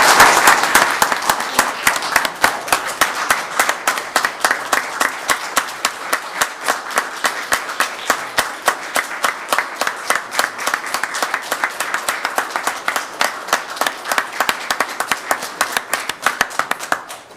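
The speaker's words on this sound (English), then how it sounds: "all give Joe a round of applause." County commissioners meeting audience applauding Joe, a long stretch of steady clapping from a modest group at moderate volume, individual claps distinct and rhythmic throughout, with no speech over it.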